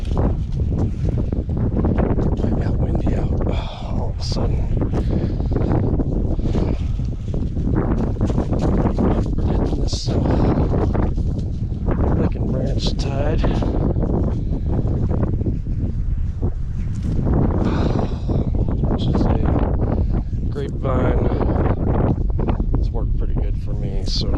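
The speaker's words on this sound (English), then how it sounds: "I got windy out all of a sudden." Strong gusty wind buffets the microphone outdoors, a rough rumbling roar that swells and drops throughout, with a person speaking now and then over it.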